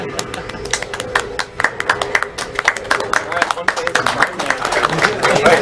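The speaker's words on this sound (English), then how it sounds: "let's just start clapping and never stop" Continuous clapping from a small group at a speedrun marathon event, a rapid stream of sharp claps with occasional voices underneath.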